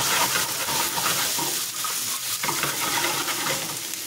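Bone-in chicken pre-cooking in a hot pan gives a loud, steady sizzle and frying crackle. Stirring scrapes run throughout.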